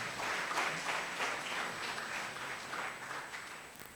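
An audience at a DevFest 2016 developer conference in Sri Lanka applauds, giving a faint, distant wash of steady clapping that continues for several seconds without talk.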